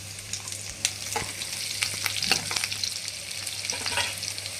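Red chillies, cumin and chopped garlic frying in oil, a crackling sizzle with sharp pops and spatula scrapes against the pan, close and without speech.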